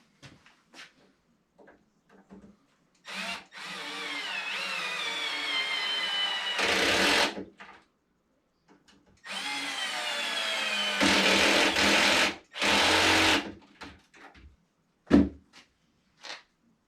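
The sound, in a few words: clutch drill driving screws for drawer slides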